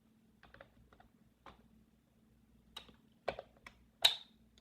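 A laptop battery being put back into the computer makes a quiet series of close clicks and taps that build to one sharper snapping pop near the end.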